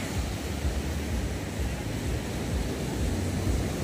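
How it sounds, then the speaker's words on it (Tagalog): Surf rolls in steadily on the beach at Urbiztondo, San Juan, La Union, a continuous broad wash of breaking waves with wind noise, fairly loud and unbroken throughout. "Lalakas ng alon kailyan"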